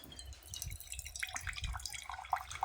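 Coconut water trickling and dripping from a split coconut into a glass: a faint, close stream of small, uneven liquid splashes and drips, with no talking.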